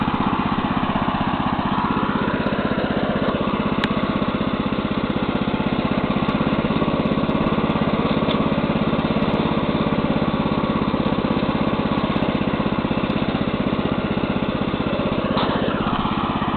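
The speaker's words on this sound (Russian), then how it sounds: "Навоз перемешаю. И заодно катаю двигатель." A Neva MB-2 walk-behind tractor tills manure while its engine is being broken in. Its small engine drones steadily and close for the whole stretch, with a slight shift in pitch near the start and no talking.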